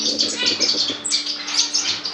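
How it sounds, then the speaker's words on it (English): Star finch calling in an indoor bird room, a run of bright high chirps and short twittering notes repeating in quick bursts, close and clear over a low room hum. "This is a star finch"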